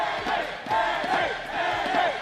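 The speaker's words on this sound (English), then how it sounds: "The crowd is going crazy." An arena crowd cheers and shouts loudly in sustained waves after an esports championship final in Black Desert, its dense roar rising and falling over about two seconds.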